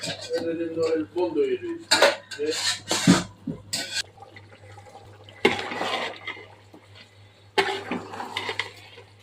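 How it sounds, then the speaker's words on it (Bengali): Beef biryani cooked with plenty of ghee is stirred in a pot. A metal spoon clanks and scrapes against the pot in loud, irregular bursts, with quieter pauses between the rounds of stirring. "ঘি দিচ্ছি অনেক করে, এখন শুধু নাড়া আর নাড়া"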